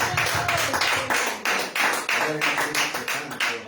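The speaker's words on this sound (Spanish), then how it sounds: "Dale un aplauso a nuestro Dios" A church congregation applauds God during a sermon, rhythmic collective clapping in regular pulses, loud and close, keeping a steady beat throughout.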